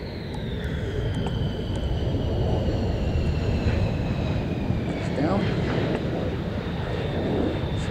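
A USAF F-15 fighter jet landing at RAF Lakenheath: a steady, loud engine roar with a whining tone that slowly falls in pitch as the jet passes, continuous throughout.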